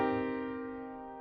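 A single minor seventh chord, with flatted third and seventh, struck once on a keyboard-like instrument and left to ring, its stacked tones decaying slowly and steadily over about a second with no voice.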